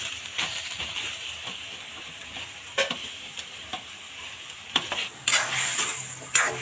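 Garam masala powder being stirred into chicken and rice frying for bhuna khichuri: a steady sizzle and hiss under scraping stirs, with a few louder clatters of the spoon against the pot near the end.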